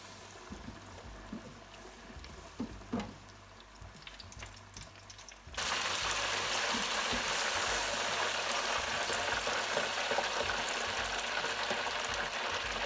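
Fish fingers lowered in a basket into hot oil: quiet kitchen background gives way abruptly to a loud, continuous close-up sizzle that holds steady to the end.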